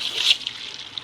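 A water hose blasts into the outlet coupling of a Euromair MixPro 28 rendering and floor screed machine, a steady close-up hiss of spraying water with slight splashing fluctuations and no talk.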